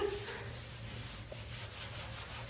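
A cloth rubs paint rhythmically back and forth over a wooden furniture surface, a soft repeated scrubbing sound at close range.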